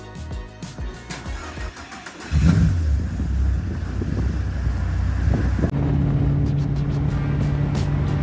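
A Caterham sports car engine cranks and catches, then settles into a steady, loud running drone as the car gets under way, with a faint tone rising near the end.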